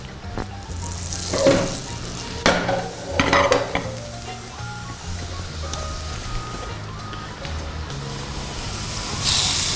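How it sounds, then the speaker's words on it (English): Steady frying sizzle from a hot pan, with a few louder stirring scrapes and clatters early on and a brief hiss burst at the end. "That is the noise you want to hear. You want to hear that sizzle."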